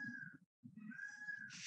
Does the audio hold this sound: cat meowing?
yes